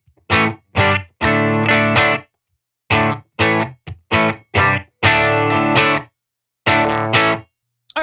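Electric guitar played through a Benson Monarch Reverb Plus amp with the reverb turned fully off, loud close chords and short strummed bursts separated by clean silent gaps, dry and slightly driven.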